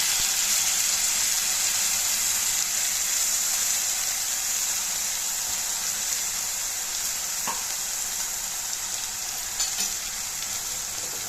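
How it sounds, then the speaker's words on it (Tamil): Tomato paste fries in oil with onions, a steady dense sizzle that holds for the whole stretch, close, with a couple of faint stirring clicks and no voices. "இந்த தக்காளி வந்து எண்ணெயில் நல்லா ஃப்ரை ஆகி வரணும்"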